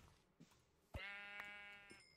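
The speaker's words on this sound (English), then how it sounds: "Jeez, where's the sheep?" One drawn-out sheep bleat from the video game Minecraft sounds alone, fairly faint and wavering for about a second, with a couple of soft clicks from the game around it.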